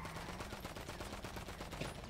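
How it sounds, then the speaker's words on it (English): Rapid video-game gunfire aimed at a car's tires crackles in a quick, dense burst. The shots sound faint and steady over a continuous background of engine and game noise. "I was shooting at your tires."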